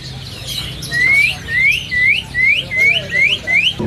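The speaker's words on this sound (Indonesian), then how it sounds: "ini ada juga stok burung perkutut Bangkok" Birds in stock at a bird-selling kiosk, among them perkutut Bangkok zebra doves, give a series of about seven clear, rising whistled calls at a steady rhythm, close and fairly loud over low background noise.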